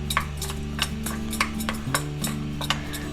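Ground spice powder stirred into yogurt in a bowl: a steady run of light spoon clinks and scrapes, roughly two or three a second, close and distinct, with a low hum behind and no speech.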